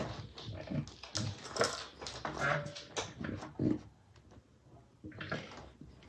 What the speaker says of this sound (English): My dog Toby, he's just standing in the doorway. He knows, don't come in here. But he wants to come and be nosy.